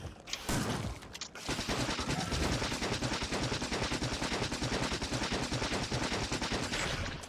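Sustained rapid SMG fire from the Factorio: Space Age video game, a dense, continuous rattle of automatic shots that starts after a brief gap and runs loud and unbroken for several seconds.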